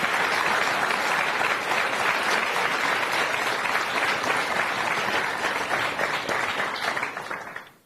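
An audience at a youth forum in Skopje gives loud, sustained applause to welcome the Prime Minister, Christian Mickoski; the dense clapping holds steady, then fades out at the end.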